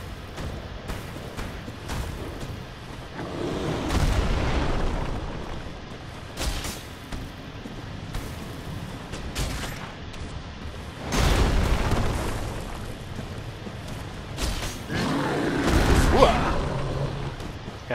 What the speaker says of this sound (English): Damn AoE explosions.